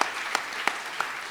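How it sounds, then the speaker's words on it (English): An audience at a classical dance recital gives applause that sounds thin and fairly distant, with a few sharper claps standing out at regular intervals over a soft steady patter. "a big clap."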